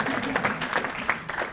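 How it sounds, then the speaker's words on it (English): Brief burst of scattered audience clapping at a tech meetup, a moderate patter of hands lasting under two seconds with crowd murmur beneath. "There we go, I like that enthusiastic clapping"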